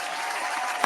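An audience breaks into applause, a dense, even wash of many hands clapping that holds steady throughout, with a brief louder burst near the end.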